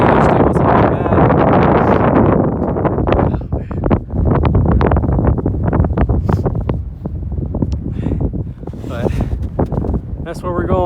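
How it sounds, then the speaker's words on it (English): Heavy winter wind on Boundary Peak, Nevada, buffets the microphone in loud, continuous roaring gusts, with a voice speaking underneath. "It's pretty windy today."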